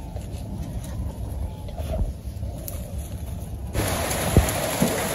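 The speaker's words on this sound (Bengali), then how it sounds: "বৃষ্টি নেমে পড়ছে।" Rain falls steadily in a village setting, a soft broadband hiss that grows louder partway through, with a few sharper drop impacts close by.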